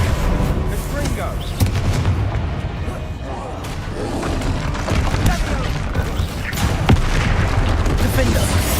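Confringo fire-spell explosions in the Hogwarts Legacy video game, a dense run of booming blasts and crackling impacts that hit repeatedly and loudly over a busy battle din.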